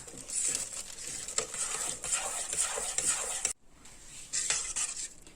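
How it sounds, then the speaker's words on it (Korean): Job's tears soap mixture being stirred in a pot as it cools off the heat, a steady near scraping and clinking of the utensil against the pot, continuous with a brief pause partway through. "65도 정도 따뜻할 때까지 잘 저어주세요."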